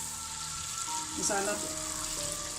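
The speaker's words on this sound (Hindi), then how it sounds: "अब इसको हम 10 मिनट तक फ्राई करते हैं, जब तक ये मसाला ऑयल नहीं छोड़ देता" Ground tomato masala fries in oil for aloo methi, giving a steady, moderate sizzle that runs throughout, with a few brief tonal clinks partway through.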